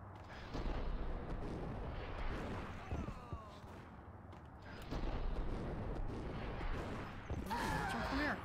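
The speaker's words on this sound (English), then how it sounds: "That shotgun." Shotgun blasts in the video game Max Payne boom out in several heavy, spaced bursts over rumbling game noise, loud and close.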